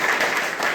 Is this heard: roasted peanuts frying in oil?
no